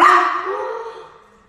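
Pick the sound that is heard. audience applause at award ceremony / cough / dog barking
dog barking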